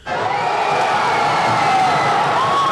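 A packed crowd at Sir John Guy Stadium in Papua New Guinea cheers at boxing bouts, a loud sustained roar of whoops and shouts with no talk over it.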